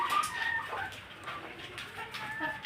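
A chicken clucks softly nearby in a home poultry setting, with a few short calls spread over the moment amid faint background bird sounds.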